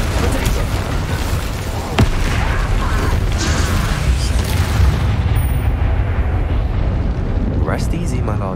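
An Incendio fire spell cast in the Hogwarts Legacy game: a loud, sustained roaring blast with booming, crackling bursts and a sharp crack near two seconds, with a voice speaking over it.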